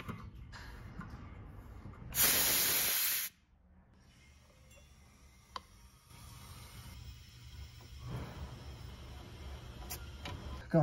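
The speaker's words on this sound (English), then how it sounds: "we are gonna shut this vacuum pump off and break vacuum" Vacuum broken on a heat pump refrigeration system during a compressor change-out: one loud, sharp hiss of rushing gas lasting about a second, cutting off abruptly, over a quiet room with faint background noise.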